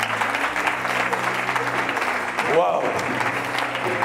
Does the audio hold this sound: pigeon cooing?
no